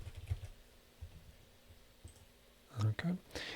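Typing an email and password on a computer keyboard, sparse soft key clicks followed by a louder burst of taps near the end, close and quiet.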